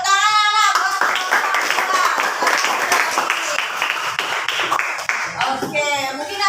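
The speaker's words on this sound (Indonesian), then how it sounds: "Tepuk tangan anak." Schoolchildren clap together in an elementary classroom, a close, loud burst of quick uneven hand claps lasting several seconds, with a voice speaking at the start and end.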